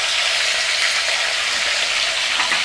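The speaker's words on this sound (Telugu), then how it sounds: "వంకాయలన్నీ ఇందులో ఆయిల్ వేడెక్కింది కదండి, మొత్తం వేసేస్తున్నాను." Whole brinjals fry in hot oil with a dense, steady sizzle that stays loud and close throughout, a continuous crackling hiss with no talk over it.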